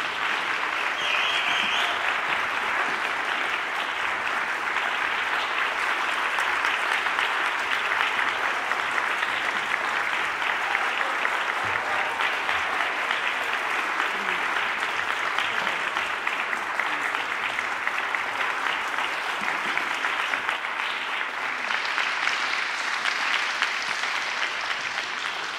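Audience applause at a live tribute concert: dense, sustained clapping that fills the whole stretch at a steady, even level with no talking over it.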